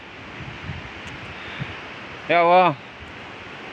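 Heavy rain and strong wind during a storm in Lumajang make a steady dense hiss throughout, and a man briefly exclaims partway through.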